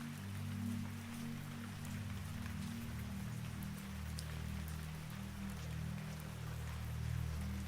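Steady rain falls across an open harbour at night beside a ferry, a soft continuous patter and hiss with a low rumbling hum beneath it, even and unbroken throughout.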